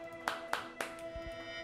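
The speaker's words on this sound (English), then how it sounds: "click yourself to clap" Three sharp, evenly spaced claps sound in a video game over a steady electronic tone, followed by a few soft low thumps.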